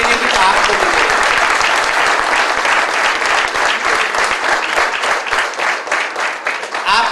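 Sustained audience applause at a business presentation, a dense loud clatter of many hands clapping steadily throughout, with some voices mixed in.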